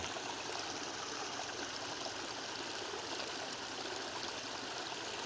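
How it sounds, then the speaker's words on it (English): Steady, continuous trickling and gurgling of a small overflow creek on a farm after heavy rains, close by, with no voices. "it's kind of pretty, a nice little overflow creek"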